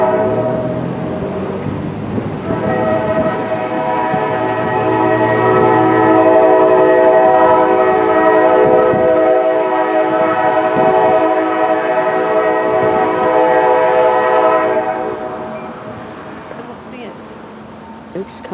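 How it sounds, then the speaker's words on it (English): A Norfolk Southern autorack freight in Spartanburg, South Carolina, blasts a long, loud horn for about twelve seconds, then fades to rolling wheel noise and rumble, with a voice briefly audible at the start. "Okay guys, so we got another train coming."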